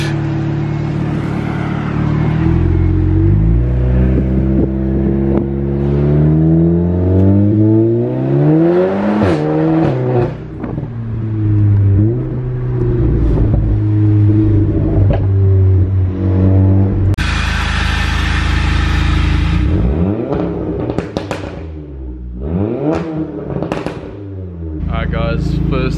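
A VW Golf R with an APR Stage 2 tune accelerates hard through repeated gear pulls, its engine note climbing loud and close, with a burst of intake or exhaust hiss mid-run and excited talk over the top.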